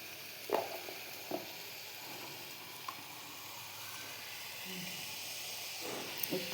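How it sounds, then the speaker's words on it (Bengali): Ginger paste fries in a pan with a faint, steady hiss and soft sizzle, broken by a few light knocks and clicks of a utensil; the sound stays quiet and close, with no talking. "সামান্য একটু আদা বাটা দিয়ে দিলাম। একটু কষে নিই"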